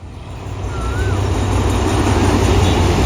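Locomotive 4308 hauling passenger train 258 from Nam Tok to Thonburi pulls into a Thai station, a steady rumbling roar that grows louder and stays close throughout, with a brief high squeal near the start.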